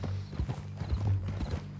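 Horse hooves clip-clop steadily in Red Dead Redemption II while the rider is tied up on horseback, a regular rhythmic beat close by with low rumbling game ambience underneath.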